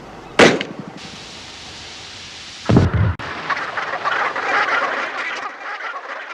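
A flock of dark-bellied Brent geese calls in a steady, busy chatter, punctuated by two sharp, loud bursts early on before the dense murmuring honks settle in.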